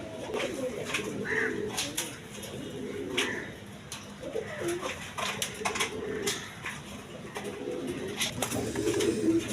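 A pair of big red Gola pigeons coo in low, repeated murmurs among other birds, with steady background noise at a pigeon market.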